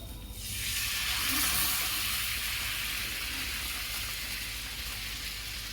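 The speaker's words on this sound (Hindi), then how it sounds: "और इस बैटर को मैं डाल रही हूँ।" Steady sizzling hiss as urad dal kadhi batter hits a hot pan, starting abruptly and holding loud and constant without talk.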